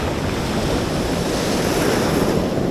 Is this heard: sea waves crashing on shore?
yes